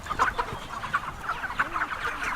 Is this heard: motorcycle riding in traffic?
no